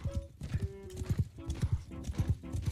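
Horse hooves clip-clop in rapid, uneven galloping beats in the video game Mount and Blade Bannerlord, loud and close amid battle noise, with a horse whinnying briefly.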